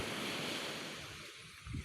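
Sea waves wash onto the beach with a broad, rushing roar, easing slightly before another surge rises at the end, with some wind.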